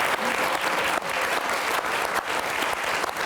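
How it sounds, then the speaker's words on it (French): Sustained audience applause fills the room at a campus event, dense steady clapping from many hands with no talk over it. "Je pense que vous pouvez tous vous applaudir tous ensemble."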